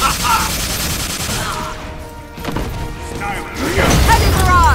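Carol Danvers' Heavy Barrage attack in the fighting game Marvel vs. Capcom Infinite: a dense, loud burst of rapid blasts and crashing impacts that builds into a heavier flurry near the end.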